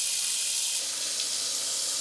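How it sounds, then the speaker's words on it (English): Hot water running from a tap in a multi-family rental property under rehab, a steady close hiss of flowing water with no talk over it. "Is the hot water already running?"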